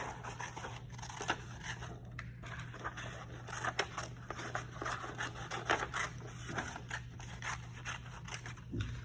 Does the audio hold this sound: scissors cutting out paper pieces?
yes